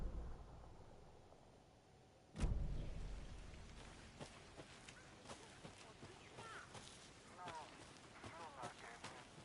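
Rain in Alan Wake II starts abruptly after a quiet stretch, then patters steadily on surfaces with scattered sharper drops and splashes, moderately loud and continuous.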